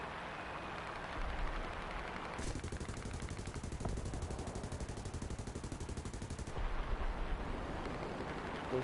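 Rapid turret gunfire rattles continuously for about four seconds in a War Thunder air battle involving a B-10 bomber, a dense burst of shots over a steady engine drone.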